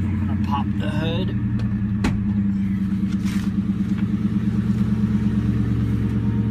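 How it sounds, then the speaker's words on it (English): A 2004 Ford Mustang GT V8 runs at idle with the hood open, a loud steady low throbbing rumble heard up close, with brief speech-like sounds and a sharp click partway through. "Car sounds great."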